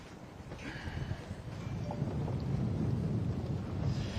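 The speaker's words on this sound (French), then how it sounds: "On a 20 nœuds de vent." Steady wind roars across the microphone aboard a sailboat in about 20 knots of breeze, a low continuous rush with faint water and rigging noise, no talk over it.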